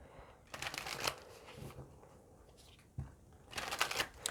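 Moon Oracle cards being shuffled in several close, crisp riffling bursts, with quiet pauses between the flurries.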